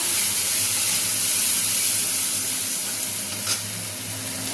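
Ground mustard and coconut paste sizzles in hot tempering oil for a vegetarian mustard dish, a loud, continuous hiss that holds level throughout with one small pop near the end.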